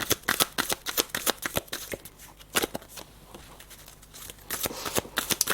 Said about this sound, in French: j'ai le temps de retirer 6 dernières cartes pour les services secrets et renseignements